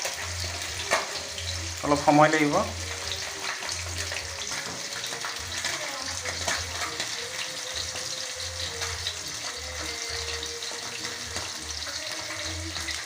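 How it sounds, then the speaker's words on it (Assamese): Pabho fish fries in a pan with a steady hissing sizzle throughout, while a voice speaks briefly and a short rising clatter is heard near the start. "ভাজি আছোঁ"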